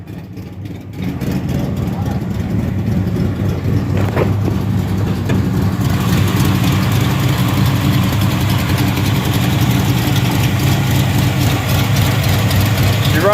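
A rebuilt 355 engine in a donk car idles loudly and steadily with a deep, rumbling low drone that kicks up to full volume after the first second and holds even, with a brief clatter along the way.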